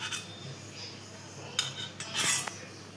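A metal spoon clinks and scrapes against a glass of mango lassi, a few soft chimes and taps over a quiet background, with the sharpest clinks near the end.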